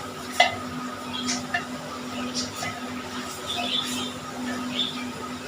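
Green chillies frying and stirred in a pot for matka gosht, a soft continuous sizzle with intermittent scraping and clinks of a spoon against the pot.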